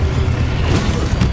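A Confringo spell explosion in Hogwarts Legacy, a short, loud, low boom that rumbles throughout a brief burst, with no talking.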